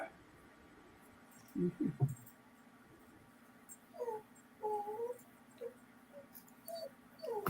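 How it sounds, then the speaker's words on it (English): A puppy whimpers in faint, high, thin whines, with a few soft yips first and then a string of short squeaky cries in a quiet room. "Speaking of puppies, who's making the noise?"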